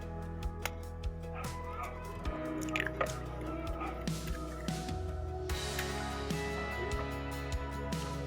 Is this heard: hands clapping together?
no